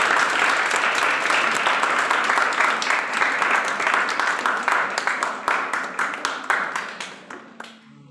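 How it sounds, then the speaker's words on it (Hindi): Audience at a Hindi department book launch at a university bursts into loud, sustained clapping that carries for several seconds, then thins into scattered claps and fades out. "एक बार जोरदार तालियों से"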